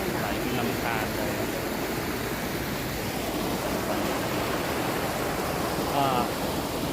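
Clear stream water rushing at Lan Sang waterfall in a national park in Tak province, a constant broadband hiss and burble close by, with faint voices briefly audible in the background.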